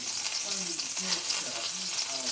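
Cinnamon rolls frying in a pan, giving a steady close crackling sizzle with faint low voice-like murmurs underneath throughout.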